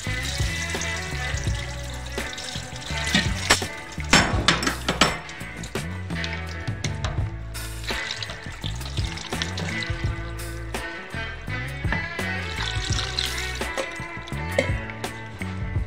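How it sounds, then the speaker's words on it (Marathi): Soaked soya chunks rinsed with cold water in a kitchen sink, a continuous close splash of running water over a steel vessel, punctuated by clinks and scrapes of utensils, no voices. "आणि लगेच थंड पाण्याने धुवून घेणार आहे"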